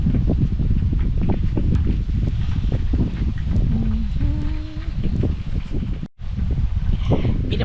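Strong wind buffets the microphone outdoors with a continuous low rumble and rustling, while faint sounds of activity come through.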